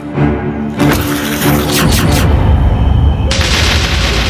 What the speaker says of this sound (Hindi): तुरंत गोली चला दी